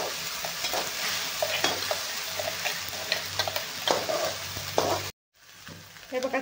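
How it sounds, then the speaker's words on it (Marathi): Masala paste sautés in hot oil for dhaba-style egg curry, giving a steady close sizzle broken by scraping, clicking stirs, with a short hush near the end before the frying resumes. "वाटण छान असं परतून घ्यायचं आहे आपल्याला."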